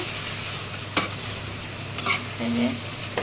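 A Bangladeshi-style curry cooks in a pan with a paste browned with ginger, garlic and cumin, a soft steady sizzle with a few distinct scraping stirs of a spoon, close and alone.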